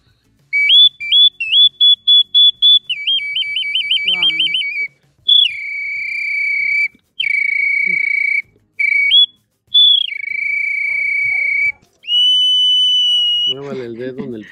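A handmade clay whistle shaped like a hummingbird gives shrill, piercing chirps, first in quick trills and then in long sustained tones with brief gaps. The whistle imitates a hummingbird, and a voice breaks in briefly near the end.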